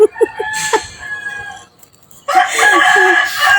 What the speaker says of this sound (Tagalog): Yung manok na lang po talaga nagsalita dito.